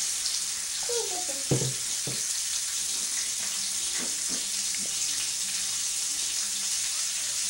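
A pancake fries in a pan at home brunch with a steady, close sizzle, plus a few brief clinks and scrapes near the start.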